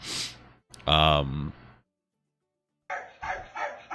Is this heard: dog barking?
yes